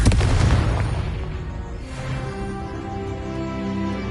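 A Confringo fire spell bursts in Hogwarts Legacy, a loud booming blast at the start that rolls off into a lingering rumble with music-like tones underneath.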